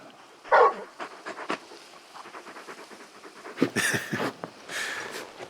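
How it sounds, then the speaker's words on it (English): A dog panting in Final Fantasy XVI pants in quick, breathy bursts, fairly close, with a few soft whimpering sounds and rustling in between. "You're just a big puppy, aren't you? A very big puppy."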